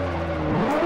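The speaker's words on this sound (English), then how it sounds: "I'm just all-wheel drifting right now." In Forza Horizon, a Nissan Skyline GT-R's engine revs hard during an all-wheel drift, a loud, close, continuous roar whose pitch climbs sharply near the end of the short burst.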